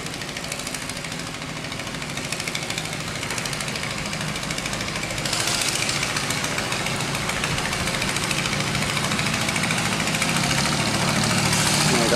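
A tam bản boat on a Mekong Delta river in southern Vietnam runs its engine with a continuous throbbing, rattling drone. The boat is heavily laden, and its engine grows slightly louder midway as the throttle is pushed.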